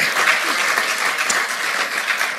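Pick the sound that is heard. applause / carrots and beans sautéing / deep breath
applause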